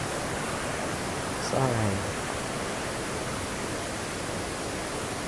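A waterfall at a campsite, a steady broad roar of falling water filling the scene, with a brief spoken word near the start.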